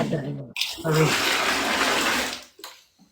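Water poured into a cooking pot holding berbere and oil, a loud steady rushing splash lasting about two seconds before it tapers off, with voices around it.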